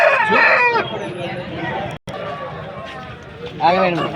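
At a rooster market in Vijayawada, a rooster crows loudly and close at the start and again near the end, over a busy background of voices and market bustle.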